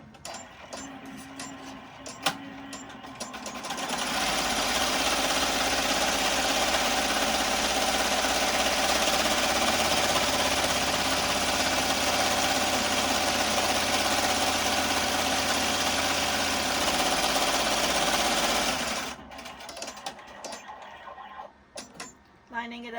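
An embroidery machine runs steadily for about fifteen seconds, stitching the placement line on an in-hoop fabric face mask, with a dense mechanical whir and vibration; quieter handling noises come before and after.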